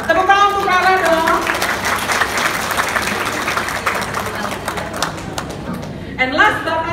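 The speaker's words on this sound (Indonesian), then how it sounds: "Tepuk tangan untuk Rara dong." Studio audience at a dangdut music competition announcement applauding the host, broad clapping with cheering and a voice speaking over it, swelling at the start and returning near the end.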